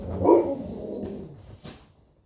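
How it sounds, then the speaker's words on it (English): A dog lets out a couple of barks followed by a short whine-like trailing sound, moderately near and fading out toward the end. "Please excuse my dog Atlas in the background"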